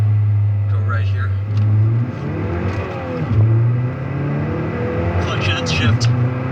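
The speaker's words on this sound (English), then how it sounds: "We're in first gear here, we're at around 3200 RPM, so I'm gonna go flat foot." A Ford Focus ST fitted with a COBB Accessport holds a loud droning rev in first gear, then dips and climbs again through a quick flat-foot shift, heard from inside the car with someone talking over it.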